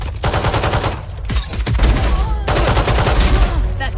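Dense gunfire with a grenade blast in Valorant, loud overlapping shots in sustained bursts with a heavy boom partway through.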